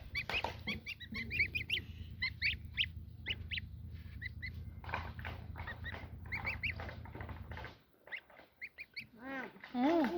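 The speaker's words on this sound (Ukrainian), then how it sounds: "Гуся, гуся." Geese honk repeatedly in a noisy, overlapping chorus close by, with rapid calls throughout and a low engine-like rumble underneath for most of it.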